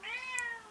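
A kitten gives one clear, drawn-out meow, close and moderately quiet, with a rising then falling high pitch and no other sounds around it.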